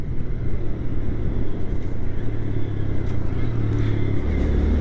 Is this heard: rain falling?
no